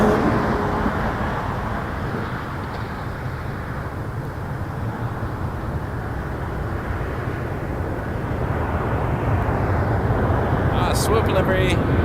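A WestJet Boeing 737-800 arriving from Winnipeg at Toronto Pearson gives a steady low engine rumble, moderately loud and slowly building, while a person talks over it.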